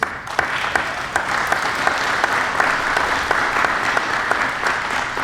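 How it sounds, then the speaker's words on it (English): A crowd at a city officials' flood briefing in Wimberley gives a sustained round of applause, dense steady clapping with a few sharper individual claps standing out. "I think you all need to owe yourself a round of applause"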